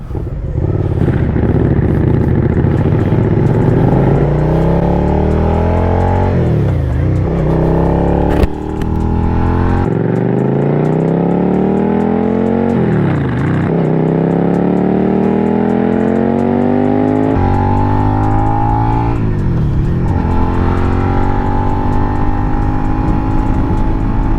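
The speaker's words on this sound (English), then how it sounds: "I'm gonna try to pick up some exhaust sounds from there." A 2023 Suzuki SV650 motorcycle with an M4 exhaust rumbles close by, revving up and down in repeated swells with a throaty, steady drone throughout.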